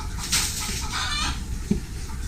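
Chickens clucking close by in short bursts at a piggery in the Philippines, a few soft squawks over a faint background hum.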